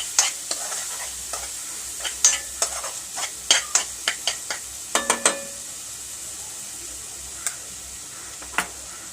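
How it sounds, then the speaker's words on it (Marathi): Onion and coconut paste stir-fried in a pan for a Malvani colocasia leaf curry, heard as a soft steady sizzle broken by a string of sharp spoon scrapes and taps against the pan, close up and with no talk. "हे चांगलं परतून घ्यायचं."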